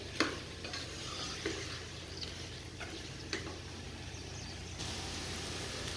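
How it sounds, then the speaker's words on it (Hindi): Cubed potatoes and eggplant frying in a pan, a steady hiss of oil under the occasional scrape and tap of a utensil, fairly quiet and close, with nobody speaking. "आलू और बैंगन हमने फ्राई कर लिए 5 मिनट"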